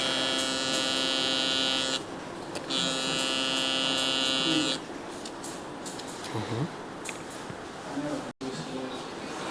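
A zero-gap hair trimmer trimming a beard hums steadily and loudly in two sustained runs, then gives way to quieter clipping sounds while someone talks over it.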